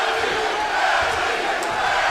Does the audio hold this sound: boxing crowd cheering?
yes